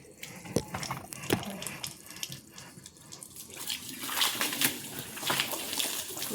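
Water runs and splashes over a cow being washed down in a cattle shed, steady pouring with intermittent splatters and sloshes close by, no talking.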